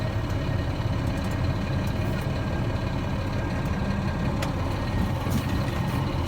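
Truck tractor creeping forward at about 5 mph, its engine giving a steady low rumbling idle nearby with faint occasional clicks and rattles.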